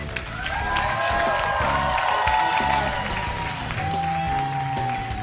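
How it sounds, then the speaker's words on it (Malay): Thunderous applause and cheering from a concert audience for a music director at a televised singing competition concert, a dense, sustained wash of clapping and whoops with music tones running underneath. "Tepukan gemuruh untuk pengarah muzik"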